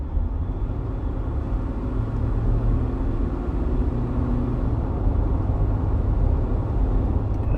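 A 2024 Ford Ranger Wildtrak with a 2.0 biturbo diesel accelerates at full throttle, heard from inside the cabin as a steady, dense low rumble that builds slightly over several seconds.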